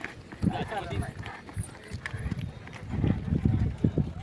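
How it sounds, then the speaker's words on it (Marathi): A pair of racing bullocks pulling carts at a village bullock-cart race, hooves pounding in a fast irregular clatter on dirt, with loud overlapping speech and crowd noise throughout. "शर्यतीची बैलजोडी बघा कशी पळती या बघा"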